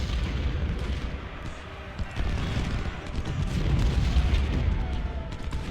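Canister shot artillery in the Civil War game Ultimate General: Civil War, heard as a continuous rumbling barrage of booms and crackling volleys that swells steadily, dense and heavy with no clear gaps.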